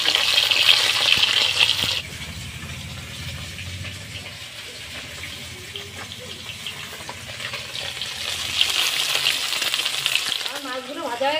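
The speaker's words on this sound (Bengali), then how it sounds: "মাছগুলো এইভাবে লাল লাল করে ভেজে নিতে হবে।" Shol fish frying in hot oil for a radish-potato fish curry, a loud steady sizzle with bubbling crackle that eases after two seconds and swells again near the end.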